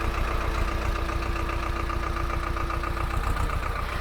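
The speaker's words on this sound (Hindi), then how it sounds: "पापा वापस छोड़ने जा रहे हैं ट्रैक्टर को" A farm tractor's engine runs steadily at a low idle-like rumble with a regular knocking pulse, close and continuous throughout with no talk.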